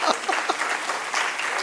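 An audience at a poetry recital claps in a quick burst, a few loud early claps swelling into dense, sustained applause from the crowd.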